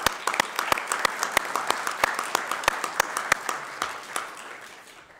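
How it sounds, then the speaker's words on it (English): Applause from attendees at a city Board of Mayor and Aldermen meeting, a steady run of near, distinct claps over a room full of clapping that thins out toward the end. "One more round of applause."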